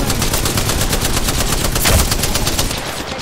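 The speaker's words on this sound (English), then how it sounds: "The enemies are shooting at me." Enemy automatic gunfire in a video game, a rapid, steady stream of loud shots hammering on without a break for several seconds.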